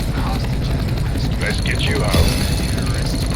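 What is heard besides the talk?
helicopter in the video game Counter-Strike: Global Offensive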